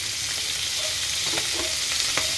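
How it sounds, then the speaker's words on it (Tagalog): Galunggong fish frying in oil with lots of garlic, a steady close sizzle and hiss with faint stirring clicks throughout, no talking. "Magprito kayo ng galunggong. Puro garlic."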